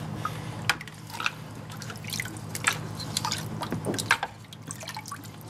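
Water splashes and drips while a gold dredge sluice is rinsed out, with irregular trickles and patters that stay fairly close and moderately quiet.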